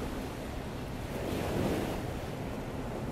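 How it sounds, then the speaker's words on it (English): Ocean waves wash onto the shore in a broad, steady hiss, swelling gently midway as a wave breaks and recedes, soft and continuous with some wind and no voices. "Allow yourself to drift away with the sound of the waves."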